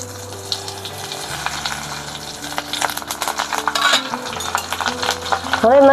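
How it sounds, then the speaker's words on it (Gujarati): Stuffed chillies drop into hot oil over a wood-fired clay stove, tempering with asafoetida, frying with a steady loud sizzle and crackle, stirred with occasional spoon clinks and pan scrapes throughout. "તે આપણે પહેલા વઘાર માટે મરચાં નાખી દઈશું, ભરેલા મરચાં।"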